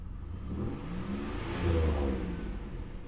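A Buick Regal Grand National engine revs up close, climbing to a deep, loud peak partway through and then easing back down toward idle.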